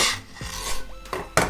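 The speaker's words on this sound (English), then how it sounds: "we're gonna roll them down a gnocchi board" Gnocchi pieces rolled along a ridged wooden gnocchi board, a brief soft rasping rub with a couple of light taps, close and quiet.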